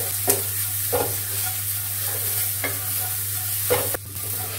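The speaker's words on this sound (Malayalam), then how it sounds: "എന്നിട്ട് നല്ലപോലെ ഒന്ന് ഇളക്കുക." Chili powder and salt stirred into a sizzling pan, with about four separate scraping strokes spaced across a steady background fry.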